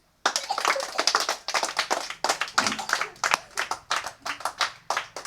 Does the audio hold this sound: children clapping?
yes